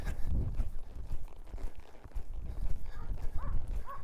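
Horses walk along with hooves clip-clopping in an uneven, overlapping rhythm, fairly close and moderately loud, with faint rustling and movement around them.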